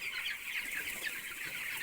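Continuous clucking and chattering from many chickens and chicks on a poultry farm, a busy flock heard together without pause; no voices.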